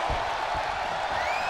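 Steady roar of an arena crowd in the WWE 2K23 wrestling video game during a Sasha Banks versus Jade Cargill match, a dense cheering wash without a break over the short stretch.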